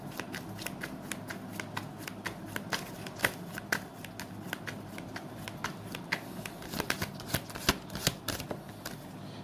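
Tarot cards are shuffled by hand, close and fairly quiet, in a steady run of crisp riffling flicks and taps that continues without pause.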